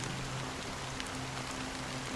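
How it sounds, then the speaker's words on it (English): Continuous rainfall in a video game cutscene, soft hissing patter with scattered droplet ticks and a faint low hum underneath, even and unbroken. "it's still raining"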